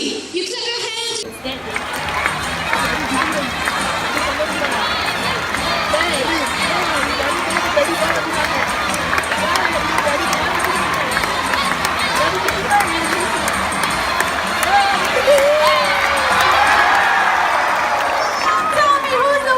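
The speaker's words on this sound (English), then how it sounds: "You clap your hands." A big audience at a bird park show in Singapore raises a steady, loud crowd roar of cheering and clapping. It carries through the whole stretch with no gaps, while voices mix into the din.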